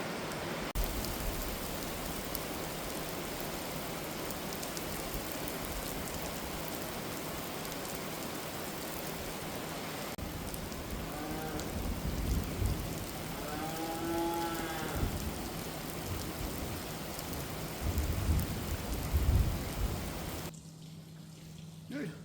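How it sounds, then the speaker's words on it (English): Heavy rain pounds steadily on a barn roof during a thunderstorm, a dense continuous hiss with brief low rumbles, while a voice speaks briefly over the downpour. "it's absolutely chucking it down and thunderstorm blowing on"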